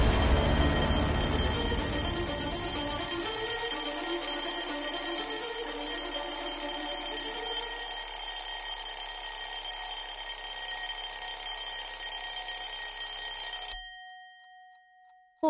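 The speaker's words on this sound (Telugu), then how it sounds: "ఓ గాడ్, ఈ అలారం కన్నా ఆ రాహుల్ అరుపులే వేకప్ కాల్ అయ్యే" An alarm clock rings continuously and loudly for about fourteen seconds, then cuts off abruptly, leaving near silence. No one speaks.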